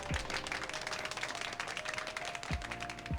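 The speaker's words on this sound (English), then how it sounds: "This one is applause apparently," Canned applause played from a button on a Comica ADCaster C1-K1 audio mixer, a dense crowd-clapping effect at moderate level, with low thumps near the start and end.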